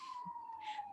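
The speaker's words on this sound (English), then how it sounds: "The sirens agree." A police siren wails steadily outside, one long unbroken tone holding at moderate loudness for the whole second with no talk over it.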